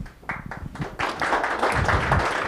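Scattered claps from a small audience at a Rotary club meeting, starting sparse and building into steady, moderately loud applause over a couple of seconds.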